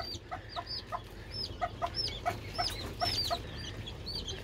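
A rooster with its hen and chicks kept together in a single cage, giving repeated short clucks and peeping chirps in an irregular rhythm, close by, with no talk.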